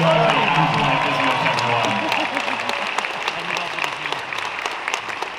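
A crowd applauds at a closing ceremony, with sustained clapping and some cheering for the whole stretch, loud and close, and a voice talking over it at the start.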